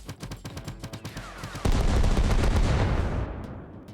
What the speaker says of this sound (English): So if we go to system, I can select mortar shell.